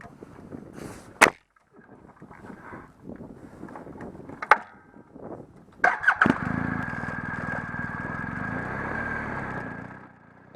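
BMW GS Trophy event motorcycle engine, ridden on open moorland roads, starting and settling into a steady, loud running drone for its last four seconds, after a quieter stretch of scattered knocks and handling noises.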